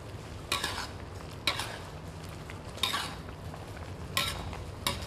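Fried garlic stirred back into a pan of wide rice noodles, with about five sharp scraping strikes of a utensil against the pan over a steady low background sizzle.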